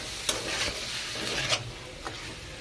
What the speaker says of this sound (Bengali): এই যে দেখুন এইভাবে কষে নিচ্ছি